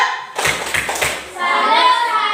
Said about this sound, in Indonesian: Tepuk salut untuk kelompok 2 dulu.